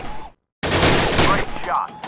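Gunfire in the Gun Club VR video game erupts as a dense, loud burst of shots after a brief silence, close and rattling with a game voice faintly heard.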